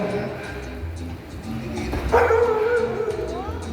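A seven-month-old dog gives a single yelping, whiny bark partway through, close by, with someone talking around it.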